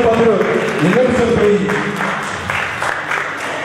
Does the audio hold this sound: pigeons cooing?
no